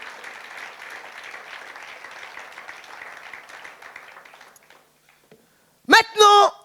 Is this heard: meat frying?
no